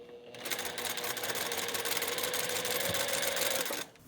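A sewing machine stitches quilt block fabric pieces together, a fast continuous rattling run of stitches lasting about three seconds before stopping abruptly, close and clear.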